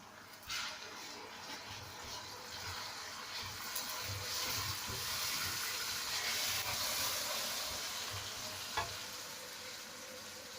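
Chopped tomatoes dropped into a hot pan of garlic and ginger while cooking aloo gobi, a steady loud sizzle and hiss with stirring scrapes running throughout, no clear talk.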